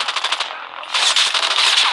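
Rapid automatic gunfire from Call of Duty Mobile, dense bursts of shots that pause briefly and then resume louder and continuous, with no talk over it.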